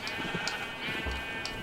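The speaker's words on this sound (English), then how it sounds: "I want the sheep to get extra dirty." Blocky sheep in a Minecraft game let out a few short bleats at moderate loudness over a steady electronic music bed, with no talking.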